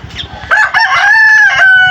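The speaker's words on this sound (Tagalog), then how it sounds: "Meron tayong 21 na tandang." A rooster crows loud and close, a long sustained call following a short opening note, on a backyard farm flock of roosters and hens.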